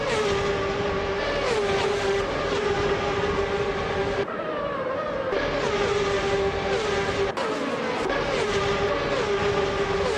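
Ferrari 355 Challenge race car engine in a racing video game, a loud, steady high-revving drone held through the whole stretch, with brief dips in pitch around gear changes.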